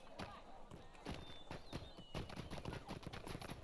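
Horse hooves clip-clop in the Lord of the Rings Online game, a steady walking gait of repeated thuds over a busy game backdrop with faint tonal ambience.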